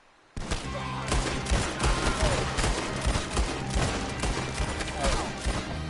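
Gunfire erupts in a Red Dead Redemption 2 shootout: a loud, sustained fusillade of rapid overlapping shots starting abruptly and continuing in dense bursts throughout, with a voice briefly heard beneath.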